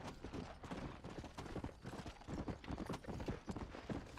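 Horse galloping in Red Dead Redemption, a fast, steady clatter of hooves close by under a dense, noisy outdoor backdrop, with no talk.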